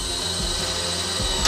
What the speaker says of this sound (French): Pas de souci, ça perce plutôt pas mal.